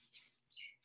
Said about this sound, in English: if you can hear my birds